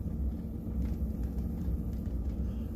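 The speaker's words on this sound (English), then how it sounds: "the thunder rolls down here" Low rolling thunder rumbles on through a storm in flat Mississippi country, a deep continuous growl at moderate distance lasting the whole stretch, with no voices.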